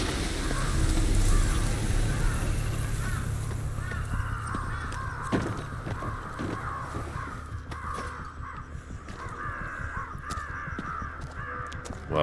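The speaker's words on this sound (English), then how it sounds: "Wow, those crows are really going at it." Several crows in the video game Ghostwire: Tokyo caw repeatedly and harshly over a low ambient rumble, the calls overlapping in loud bursts throughout with no talk.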